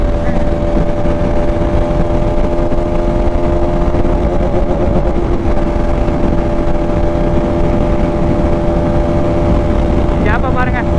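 Bajaj RS200 and Yamaha R15 V3 motorcycles racing at full speed, heard from a riding bike as a loud, continuous high engine drone with heavy wind roar and faint whines over the top.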